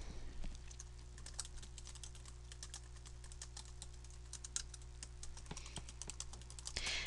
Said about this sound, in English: I'm just going to continue typing this